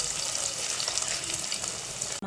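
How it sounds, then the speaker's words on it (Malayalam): Masala for a murrel fish curry sizzles steadily in a pan, a dense, even crackle held at moderate loudness throughout, with a brief break near the end. "മസാല തിളച്ചിട്ടുണ്ട്, നമുക്ക് അതിലേക്ക് മീനിട്ട് കൊടുക്കാം"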